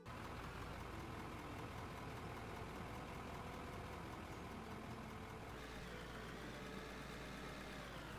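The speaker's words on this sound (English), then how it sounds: "Engine." A vehicle engine idles in the mining game Out of Ore, a steady low drone that holds evenly throughout, with a deeper low hum joining partway through.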